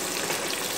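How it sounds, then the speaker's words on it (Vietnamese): Salted pork belly sizzles in a pan over very low heat, giving a continuous dense crackle and hiss at a steady moderate level with no voices. "là tổng thời gian chiên khoảng 20 phút nữa thì thịt nó sẽ chín đều bên trong ấy, và cho lửa thật nhỏ như này."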